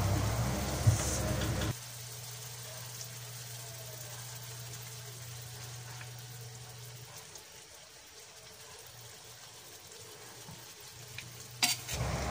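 Pineapple chicken in a pan with pineapple juice is stirred gently, a short clatter at the start giving way to a soft, steady simmering sizzle with a low hum, ending in another brief clank.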